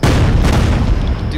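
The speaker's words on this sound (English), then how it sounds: "That's from the holy hand grenade." A holy hand grenade blast in the Worms Ultimate Mayhem video game, a loud, dense booming rumble that fills the whole moment and trails off slightly, heard up close with no talk over it.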